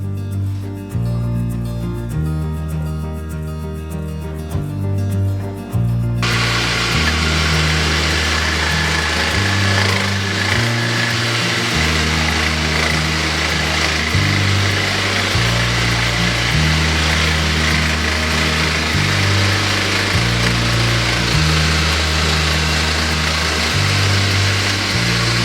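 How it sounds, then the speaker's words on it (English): An upside-down jigsaw, rigged as a makeshift table saw, runs with a loud, steady, high-pitched motor whine and cutting buzz for about twenty seconds after a quieter start. "I'll just arrange my little makeshift table saw over here, and then I'll cut it out, which is a jigsaw upside down"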